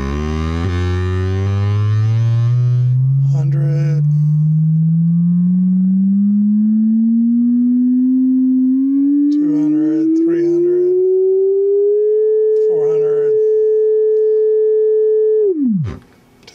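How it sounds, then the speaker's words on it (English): A sine-wave test tone sweeps steadily upward in pitch through a vintage Altec 755A loudspeaker, loud and continuous, then holds a steady tone before cutting off abruptly, with faint sounds from the room in between. "we're gonna run through the same sweep setup here"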